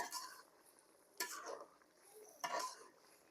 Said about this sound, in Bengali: এবার আমি একটু নেড়ে দেব।